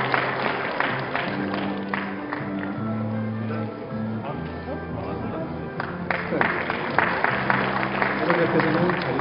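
Steady applause fills a university graduation ceremony hall as an award is presented, with background music playing under the clapping throughout.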